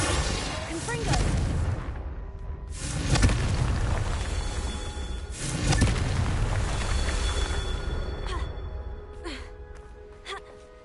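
Confringo fire spells exploding in the Hogwarts Legacy video game: two or three booming blasts roll out and fade, with scattered sharp hits and faint background noise in between.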